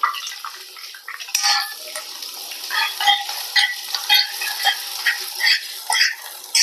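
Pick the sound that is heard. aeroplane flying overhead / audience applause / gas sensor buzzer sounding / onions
onions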